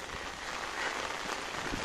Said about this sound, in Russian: И дождь, слышно, как он идет,